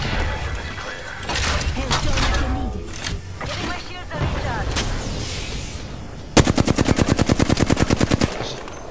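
Video game gunfire: scattered shots under overlapping talk, then a loud rapid burst of automatic fire lasting about two seconds near the end.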